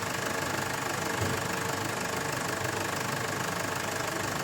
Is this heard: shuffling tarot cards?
no